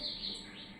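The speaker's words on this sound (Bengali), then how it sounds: "আর বাইরে কি সুন্দর পাখিটা রাখ ডাকছে দেখেছো" A bird calls outside a house near garden trees, a single faint, brief chirp carrying from a short distance with no talk.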